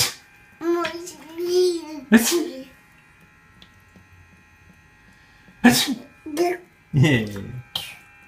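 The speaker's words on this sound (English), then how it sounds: "You gonna sneeze?" Child sneezing several times in a row, sharp bursts close to the mic, with a voice and babbling between them.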